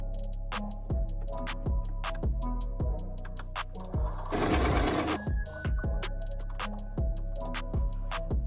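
A sewing machine tacks the folded-over top edge of a thong bikini, its needle running in quick, regular bursts of stitches with short pauses between them, close and steady throughout.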